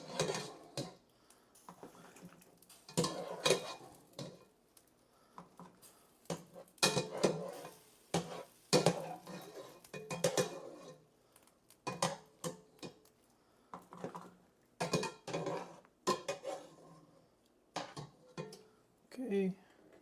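Cooked pasta is tipped into a baking dish for a butternut squash bake, giving a quiet run of scattered clinks, scrapes and soft knocks of utensil against dish, close by and irregular.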